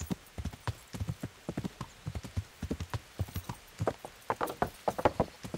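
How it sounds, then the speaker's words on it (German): Horse hooves clip-clop steadily and up close while riding through the medieval countryside in the video game Kingdom Come: Deliverance, a quick even gait that carries on for several seconds with no talk over it. "Reiten in die Richtung um nach Sasau."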